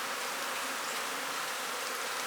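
Honey bees swarm around an open hive box during beekeeping work, their dense buzzing forming a close, continuous drone.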